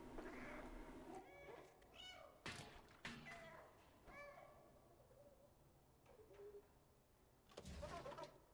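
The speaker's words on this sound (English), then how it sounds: "we have to make that cat sound. Left alt, the meow, okay." Cat meows triggered by a key press in a video game set in a slums level, several short game-character mewing calls spaced across the stretch with occasional thuds and game sounds, no talking.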